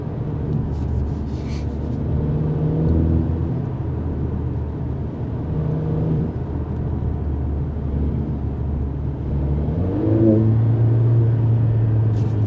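A 2020 Mercedes-AMG CLA45 S engine rumbles steadily at idle and low revs, with a grunting note, a couple of brief rising revs and a deeper throaty surge near the end.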